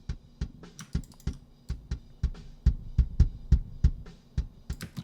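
A thickened kick drum from a metal mix, EQ'd for a fuller, heavier low end. It thumps in quick, punchy beats over a steady pattern, with sharp attacks and cymbal-like ticks on top.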